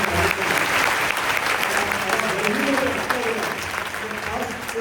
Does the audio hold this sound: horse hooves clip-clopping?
no